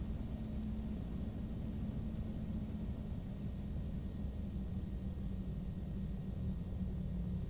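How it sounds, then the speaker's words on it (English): A PA-34 Seneca twin-engine plane in the FSX flight simulator drones with a steady, even engine roar during a rolling takeoff, loud and continuous with no talk. "We'll just do a rolling takeoff, no reason to stop."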